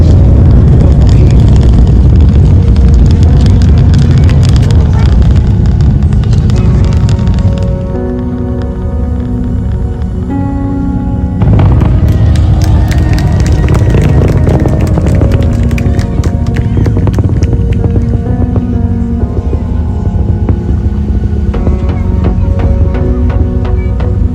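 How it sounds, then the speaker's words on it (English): A loud, continuous low rumble with crackling texture, heavy and unbroken throughout, from the nine Merlin engines of a rocket launching, heard at a distance. "The rumble from those 9 Merlin engines now making its way across the Space Center"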